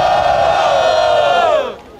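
Loud crowd roaring and shouting together at a rap battle, the Coliseu edition 185 clash between Gordão ZN and Sagat, one sustained surge of noise that drops away near the end.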